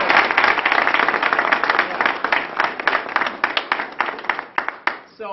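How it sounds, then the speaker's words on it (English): An audience at a commemoration event applauds for the First Lady, a burst of dense clapping that thins into fewer, distinct individual claps before fading out. "give her a round of applause"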